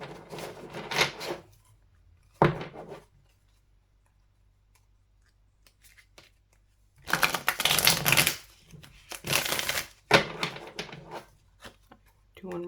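Tarot cards are shuffled by hand in two bursts of dense riffling and flapping close by, with a voice speaking in between.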